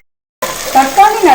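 Tomatoes with salt sizzle while being sautéed and stirred in a pan for a vegetable kuzhambu, starting abruptly after a short silence, loud and close with scraping swells.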